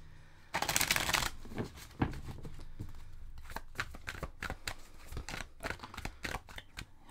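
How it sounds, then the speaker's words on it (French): A deck of tarot cards is shuffled close by, opening with a long riffling burst and followed by a quick run of crisp snapping and flicking card sounds with no talk. "On a eu des cartes qui ont sauté"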